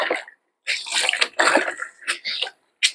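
Water splashing and sloshing while a motorcycle helmet is washed by hand, coming in several short bursts with brief pauses between them, close and fairly loud, with no talking.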